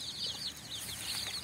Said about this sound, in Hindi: देखिए बहुत सारा मुर्गी का बच्चा है